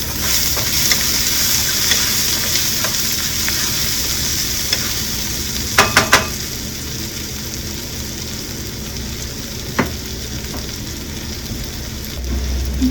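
A homemade fajita shell cooks in a hot pan, giving a low continuous sizzle with a quick burst of scraping clatter near the middle and a single knock later on.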